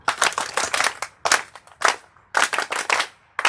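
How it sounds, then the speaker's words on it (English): A group claps the Class A pattern together in sharp, loud, synchronized bursts, a quick cluster of claps followed by single claps and another cluster, with brief silences in between. "Let's try the Class A clap to ourselves."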